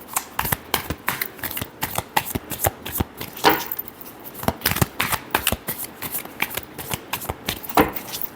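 Tarot cards shuffled by hand in a steady series of crisp riffling flicks and soft slaps, close and clear, with no talk over them.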